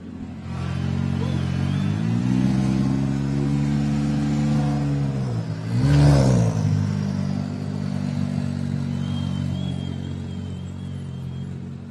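A Can-Am off-road vehicle idles at the Baja 500 finish line with a steady, loud engine drone, then revs hard once in a brief rising and falling swell before settling back into its rumble.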